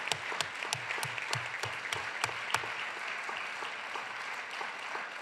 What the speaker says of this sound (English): a big round of applause to the families of all of you